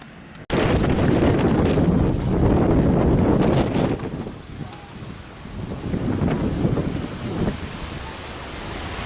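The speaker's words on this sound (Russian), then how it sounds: "Ну вот такой сильный ветер." Strong Levante wind from the Sahara blowing in Spain, a loud, continuous roar buffeting the microphone with surging gusts throughout, with no voices.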